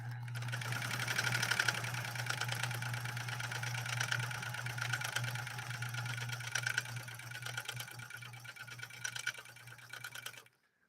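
A Pfaff 130-6 sewing machine stitches through material in a steady, fast mechanical chatter with a low motor hum underneath, running close and continuously for about ten seconds before stopping abruptly.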